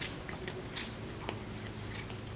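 An animal chews treats with soft, irregular crunching bites, close but faint over a steady background hum.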